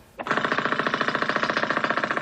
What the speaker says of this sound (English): It's a pneumatic drill, Coco.